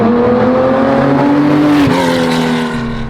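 A Porsche 911 Baja trophy truck slides over dirt, its engine roaring loud and close with a steady tone that dips briefly before fading slightly.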